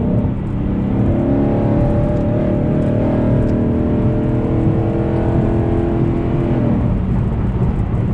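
A 2014 Ford Mustang GT accelerates hard on a busy road from about 60 to 80, its V8 a loud, continuous rising roar with rumble filling the whole stretch.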